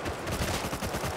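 Gunfire in the survival video game Rust, a headshot on another player: a dense, continuous burst of firing across the short stretch, loud and close, with no speech over it.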